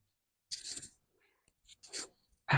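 A house cat meows in a few short, separate calls close to the microphone, with quiet pauses between them in an otherwise still room.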